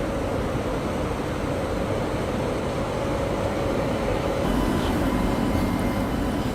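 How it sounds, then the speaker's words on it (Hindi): The Duronto Express pulls out of a station platform bound for Bangalore, a steady, loud rolling rumble of wheels and carriages that holds evenly throughout with no voices. "ये दुरंतो निकली बेंगलोर के लिए एक लंबे सफर पे"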